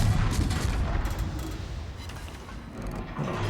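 Naval gunfire from an enemy ship in World of Warships, aimed at the USS Farragut destroyer: heavy rumbling booms and scattered shell impacts, strongest at the start, fading slightly, then swelling again.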